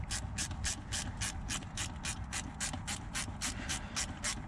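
A socket ratchet tightening a rounded bolt clicks in a quick, steady rhythm of sharp pawl ticks, close and distinct against a low background hum, no talking.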